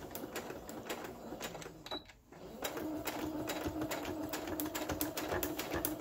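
A sewing machine runs in steady rapid stitching bursts while sewing a clear plastic shaker pocket onto a paper lapbook. The needle rattle is close and continuous, with a brief pause partway before it resumes.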